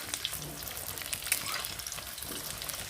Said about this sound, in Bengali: তো আলুটা আগে ভেজে নিই বন্ধুরা